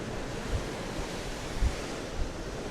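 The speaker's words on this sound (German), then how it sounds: "Wir haben einen relativ hohen Wellengang" Sea waves rolling against a boat heading toward Croatia in fairly heavy swell, a steady low wash with wind noise and a few soft thumps, no talk.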